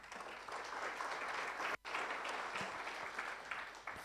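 A seminar audience breaks into loud, sustained applause from many hands, dense and continuous, with a brief near-silent gap partway through before the clapping resumes at full strength.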